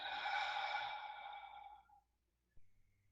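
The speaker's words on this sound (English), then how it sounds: "take a few deep breaths in through the nose. And release it out through the mouth." A slow, deep breath drawn and released during a calm relaxation exercise, a soft airy exhale fading out over about two seconds, followed by quiet and a faint thump.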